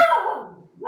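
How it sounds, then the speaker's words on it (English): A single dog bark, close and fairly loud, sliding down into a short whine before a second bark begins at the very end. "Somebody's dog is barking."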